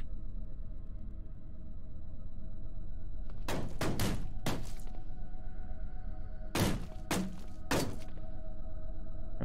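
Beretta pistol gunshots in the Cataclysm DDA video game, two quick clusters of sharp, loud shots several seconds apart over a steady low background hum.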